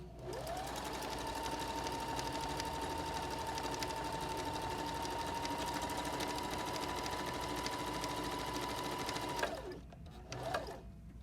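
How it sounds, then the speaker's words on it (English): A Baby Lock Zeal sewing machine stitches a buttonhole into fabric under the presser foot. It runs as one continuous, steady, close whir for about nine seconds, with a rising tone as it starts, then slows and stops. "simply put your fabric underneath the presser foot again and then sew again"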